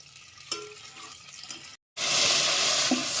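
Tempering for lasaniya sandwich dhokla comes to a boil in a pan, first as a quiet bubbling with small pops, then after a brief gap as a loud, steady hissing sizzle close by.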